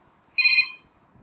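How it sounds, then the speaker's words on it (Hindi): A single ringback tone sounds on an outgoing phone call placed from a private number, one clear electronic ring burst lasting about half a second against quiet. "आप सुन सकते हैं दूसरे नंबर पे मेरे पे कॉल जा रही है।"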